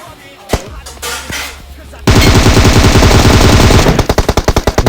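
Gunfire in the mobile battle royale game Battlegrounds Mobile India: a loud sustained burst of rapid automatic fire after a couple of sharper single shots, ending in distinct evenly spaced rounds, close and dominant.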